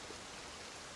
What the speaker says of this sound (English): So much rain. A ridiculous amount of rain, some might say.